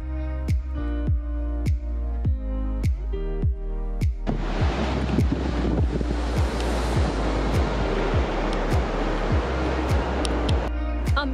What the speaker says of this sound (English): If you can see here, the waves are pretty big. And they've been crashing down on us.